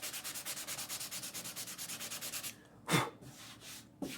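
Sandpaper rubs rhythmically across painted flag artwork in quick, even back-and-forth strokes for about two and a half seconds. A pause follows, broken by a couple of isolated scraping swipes, all close and fairly quiet.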